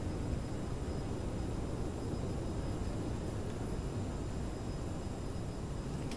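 CRJ900 thrust reversers and wheel braking during landing in a flight simulator: a steady, loud, broadband engine roar that holds level throughout with no break.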